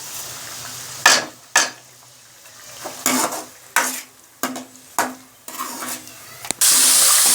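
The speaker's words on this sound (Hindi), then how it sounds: "मसाले हमारे भून चुके हैं।" Dried coriander, achar masala, red chilli, turmeric and salt fry in a pan for a gobi chicken dish. A spoon stirs and scrapes in repeated bursts over a soft sizzle, ending in a louder hiss.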